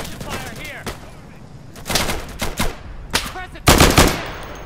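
Bursts of automatic gunfire crackle in the shooter game Insurgency, with scattered shots early and dense rattling volleys building to a loud final burst, mixed with faint voices.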